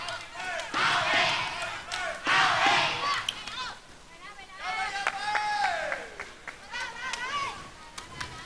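Thai supporters cheer at a women's sepak takraw gold medal match between Thailand and China at the 2010 Asian Games, bursts of crowd shouting rising and falling under an announcer's commentary.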